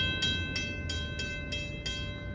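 A SEPTA commuter train rolls past a road crossing in Huntingdon Valley, Pennsylvania, with a steady rumble and rhythmic clacks roughly every third of a second as the cars pass close by.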